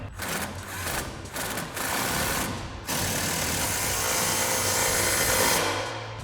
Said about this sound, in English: grab our impact 21mm socket,